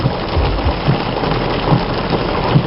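Steady rain pours down continuously on a camp near the Kwando River in Namibia's Caprivi Strip, a dense hiss of drops on surfaces with no break, fairly loud and close.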